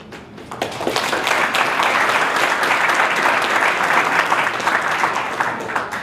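A church congregation at a worship service breaks into sustained applause, loud and dense clapping that swells in the first second and holds steady to the end with no speech.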